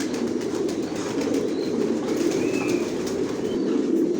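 Racing pigeons in a loft fill the space with a steady, dense murmur of cooing and wing shuffling, close and continuous with no speech.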